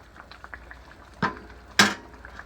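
Pear sauce simmers and reduces in a pot, giving faint, soft bubbling, broken by two sharp, louder clanks of metal against the pot.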